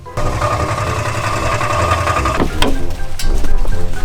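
Daewoo Matiz engine running on brake cleaner as fuel, a loud, close, uneven mechanical chatter that sputters and falters partway through, then picks back up roughly with irregular clatter.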